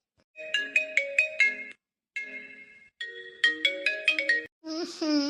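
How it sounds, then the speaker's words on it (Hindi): Bright, melodic mobile phone ringtone in a cartoon: repeated bursts of synth tones in short phrases with brief gaps between them, loud and close, ending in a warbling flourish. "देखो, फोन बज रहा है क्या तुम्हारा?"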